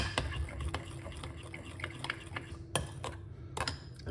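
A spoon stirring plantain fritter batter in a bowl, repeated wet scraping and clinks against the bowl at close range, with a few sharper knocks.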